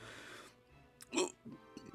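A single sharp hiccup bursts out, brief and close, from someone who has just eaten a very hot sauce, with faint breathing around it.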